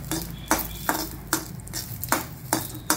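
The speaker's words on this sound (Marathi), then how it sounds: "त्याच्यानंतर ही मसाला वेलची टाकायची, ही पण थोडीशी अशी भाजून घ्यायची।" Green cardamom dry-roasting in a pan over a medium flame, with soft rattling scrapes and stirring strokes recurring about every half second, close and fairly quiet.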